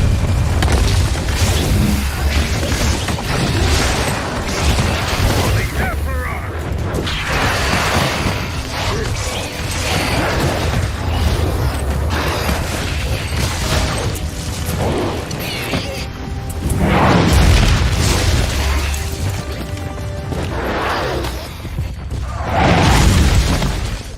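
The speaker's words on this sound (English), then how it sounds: "Artillery strike commencing. Incoming." Artillery shells pound the ground in a video game strike, a long barrage of heavy, booming blasts and crashes rolling one after another, loud and dense throughout with no voices heard.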